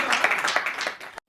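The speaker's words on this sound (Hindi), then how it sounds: "जोरदार तालियां बजाकर" Audience at a Hindi poetry stage event clapping to welcome a poet, a short loud burst of close, uneven claps that stops abruptly.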